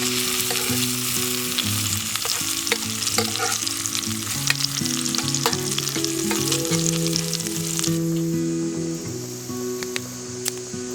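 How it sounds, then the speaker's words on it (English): Bacon frying in a hot pan over an outdoor cooking area, a loud, dense, continuous crackling sizzle heard close up throughout, with a steady tonal hum underneath. "Now I have all of this great hot area to heat up my pan and cook the bacon on."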